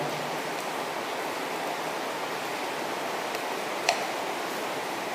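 Lead nitrate crackling as it is heated in a test tube, heard as a few sparse, sharp ticks, one clearly louder, over a steady broadband hiss with no talking.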